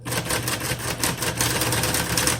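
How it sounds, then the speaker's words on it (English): A 1960s Smith Corona Coronet Super 12 Coronomatic manual typewriter being typed on, a rapid, even run of close, loud mechanical key strikes. The dash and period keys work only intermittently. "Let me keep typing and see what we have here."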